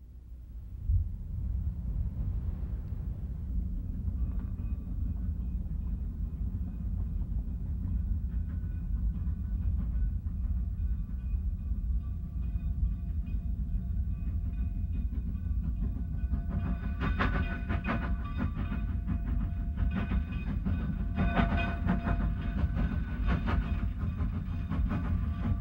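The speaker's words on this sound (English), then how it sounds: "Today, the eastbound train from Chama is the first arrival." A steam train of the Cumbres and Toltec railway rolls into Osier station, eastbound from Chama, with a steady low rumble and rising clatter of wheels and cars as it draws nearer, no voices.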